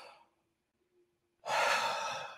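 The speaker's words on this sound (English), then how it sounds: "a nice deep breath." One deep, breathy exhale follows a brief quiet pause, close and fairly loud, with no talking.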